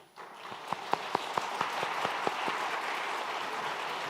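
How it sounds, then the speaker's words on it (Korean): A standing church congregation applauds to welcome newcomers during a Sunday worship service. Dense, steady clapping fills the room, with a brief rhythmic run of louder unison claps near the start. "잠깐 자리에서 일어서시면 다 함께 박수로 환영하도록 하겠습니다."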